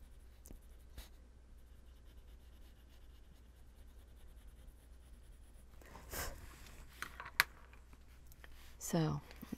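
A marker colours in black areas of a card with purple ink, giving soft, faint scratchy strokes in a quiet room, with a few brief, slightly louder rubbing sounds near the end.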